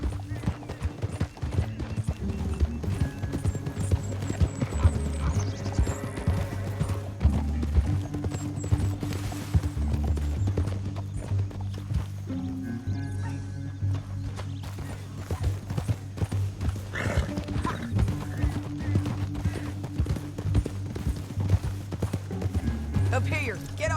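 Horse hooves clip-clop steadily through a Red Dead Redemption 2 game scene, with a brief whinny, under music and character dialogue throughout.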